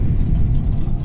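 An Audi car cruising on the German autobahn out of Frankfurt, heard from inside as a steady low road and engine rumble with broadband wind noise and no voices.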